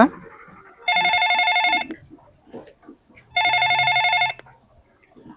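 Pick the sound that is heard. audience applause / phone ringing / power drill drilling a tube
phone ringing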